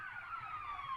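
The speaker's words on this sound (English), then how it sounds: "Excuse me, Mr. Ambulance, I'm trying to do my outro here." Faint, distant ambulance siren passing by, a continuous wailing tone that slowly slides downward, heard alone with no talk.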